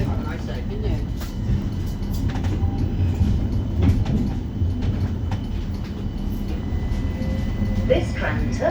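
West Midlands Metro tram in motion, a steady low rumble of the running car with faint rail clatter and occasional squeaks, heard from inside the carriage.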